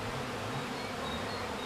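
Honeybees at a hive in an apiary buzz in a dense, continuous hum, faint and steady throughout with no voices.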